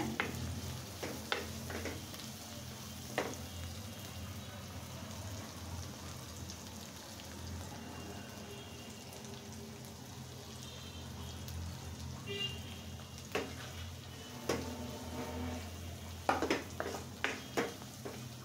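Potatoes and shrimp fry in a pan, a steady soft sizzle running throughout with occasional sharper clinks and scrapes of stirring, fairly close and moderate in level, without talking.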